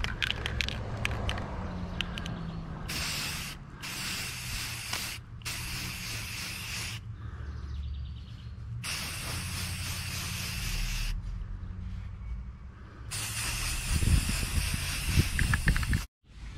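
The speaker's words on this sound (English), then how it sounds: "I put some paint on it, some rattle can." Rattle-can spray paint being applied to a DIY transducer shield: repeated long hissing bursts of several seconds each, separated by short pauses, close and steady.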